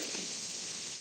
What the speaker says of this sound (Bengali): এই হালকা হালকা বৃষ্টি আছে